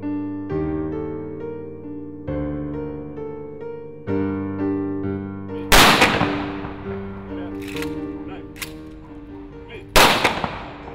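Sharp, loud bursts of a gun salute ring out three or four times over steady mournful music at a funeral, each volley's crack standing out clearly above the melody.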